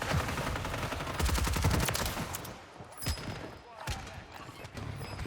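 Bursts of automatic gunfire in Call of Duty Warzone, blind-fired through smoke, with dense rapid shots early, then scattered single reports and game sounds.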